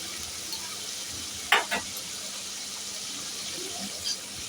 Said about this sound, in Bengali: দিয়ে আমি ভালো করে এটা এবার ভালো করে কষবো। এই কষানোর সময় দেবো আরেকটু টমেটো